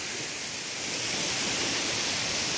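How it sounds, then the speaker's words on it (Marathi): Ramghal waterfall at Tondoshi village in Satara runs in full flow, a steady dense rushing roar that holds even and unbroken throughout, close and loud with no voices. "बघा अखंड धबधबा चालू आहे"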